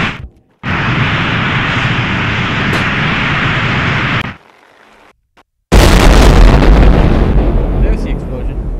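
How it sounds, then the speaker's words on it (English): A loud roaring blast in Happy Wheels rumbles for several seconds, cuts to near silence, then a second powerful explosion roars back and slowly fades. "There's the explosion"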